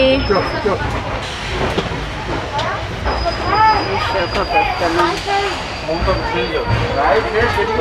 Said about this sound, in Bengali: তো ফাইনালি যে স্টেশনে ঢুকছি